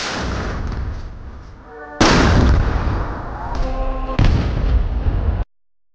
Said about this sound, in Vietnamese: 21 loạt pháo rền vang trên nền quốc thiều.